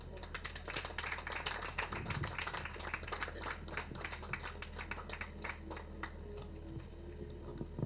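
An audience at a nursing graduation and induction ceremony claps in a hall, a faint, distant patter of many hands that slowly thins out.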